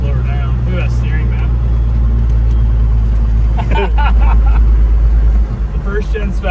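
First-generation Cummins diesel truck driving with its gearbox grinding slightly on the shift into third, heard as a loud, steady low engine drone with cab rattle while people talk over it.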